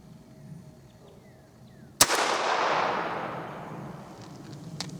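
A single sharp shot from a rimfire revolver, loud and close, followed by a long fading echo and faint clicks of the cylinder.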